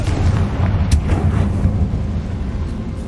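A Confringo fire spell from Hogwarts Legacy bursts in a loud, rumbling explosion with a sharp crack near the start, then a sustained fiery roar that slowly fades.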